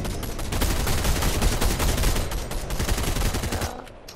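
Rapid, loud bursts of automatic gunfire from Fortnite crackle almost continuously as shots are fired at trees, then cut off abruptly near the end, with no talking.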